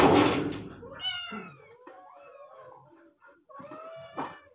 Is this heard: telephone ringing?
no